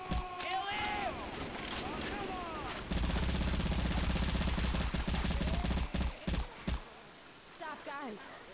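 Gunfire in Left 4 Dead 2: sustained rapid automatic shooting that fills the middle stretch, followed by a few heavy isolated shots, with excited voices shouting over the gameplay.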